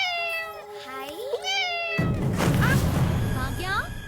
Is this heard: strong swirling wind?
no